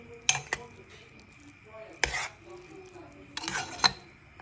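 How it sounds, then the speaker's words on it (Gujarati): A spoon stirring ghee into cooked khichdi in a pot makes a few sharp metallic clinks and scrapes, spaced irregularly, against a quiet kitchen background. "હવે આપણે એમાં ઘી નાખીને એકદમ મસ્ત મિક્સ કરવાની"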